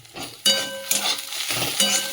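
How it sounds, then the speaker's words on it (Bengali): Radish greens stir-fry in a pan over a lowered gas flame, with short bursts of spatula scraping and sizzle alternating with quieter moments, close up and with no voices. "দিয়ে একটু গ্যাসটা কমিয়ে কমিয়ে ভালো করে ভাজবো।"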